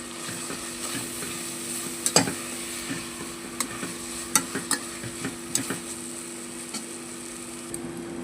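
Spices and finely chopped coriander frying in a pan for egg biryani: a steady soft sizzle with scattered sharper clicks of stirring, moderately close and fairly quiet.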